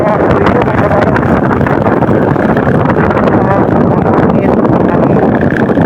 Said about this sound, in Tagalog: Malamig ng hangin.